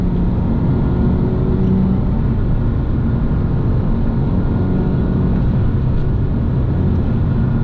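Engine and exhaust of a 2007 Porsche 911 GT3 with a center bypass and stock catalytic converters, heard from inside while driving: a steady, loud, dense low drone that holds throughout with no break or speech.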